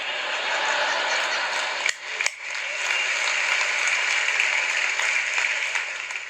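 An audience cheering and applauding steadily and loudly throughout, with a brief dip partway through before the dense clapping resumes.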